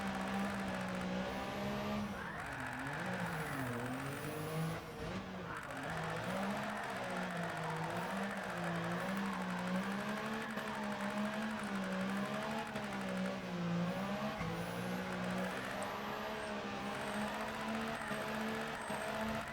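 A tiny mini truck revving in a video game while sliding sideways, its engine drone rising and falling continuously and steadily throughout, alone without talk.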